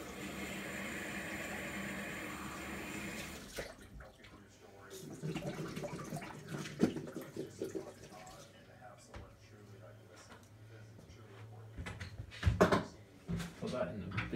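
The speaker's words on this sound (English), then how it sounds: "Let me just rinse this out." Water running from a tap while a container is rinsed out, a steady splashing flow that stops, followed by scattered drips, clunks and sloshing nearby, with a voice talking at times.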